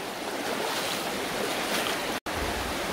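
A river flows beside a football pitch, heard as a steady, loud, broadband rush of water and wind noise, with a brief cut near the end and no voices.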